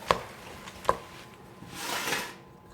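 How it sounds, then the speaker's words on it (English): Chocolate chip cookie dough with Hershey's chips being mixed in a bowl: two sharp, close knocks of a utensil, then a soft, longer scraping swish that fades out. No one speaks. "I'm going to mix it together."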